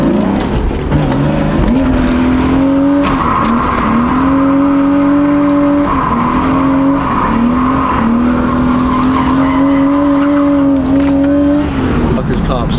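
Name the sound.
car drifting with tire squeal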